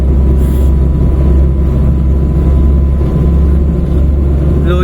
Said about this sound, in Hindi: ब्रेक लगा लेते हैं हल्की सी।